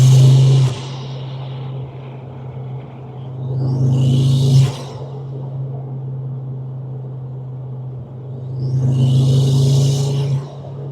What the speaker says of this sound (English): how do you guys think the car sounds now with this intake on?